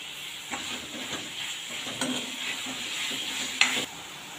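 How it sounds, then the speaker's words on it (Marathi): Finely chopped tomato sautéing in oil in a pan for a spiced cashew curry, a steady soft sizzle broken by several scrapes and stirring clinks from a utensil. "यामध्ये 1 टोमॅटो बारीक चिरलेला घालत आहे, तो पण आपण तेलावर परतून घेऊया।"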